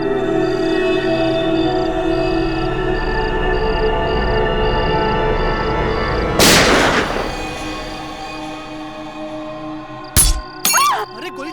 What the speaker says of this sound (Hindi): अरे गोली चलने की आवाज आई।